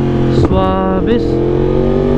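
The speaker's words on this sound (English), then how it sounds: "Ang lakas ng backfire ng AC Project." Yamaha R1 motorcycle fitted with an SC Project exhaust, engine revving loudly and close with a sharp backfire pop near the start and another crackle about a second later as the revs shift.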